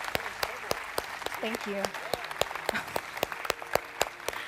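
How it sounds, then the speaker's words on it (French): An audience at a live comedy show in Poitiers, France claps loudly with sharp, uneven hand-claps, while a performer speaks over the applause. "Applaudissez-les bien fort"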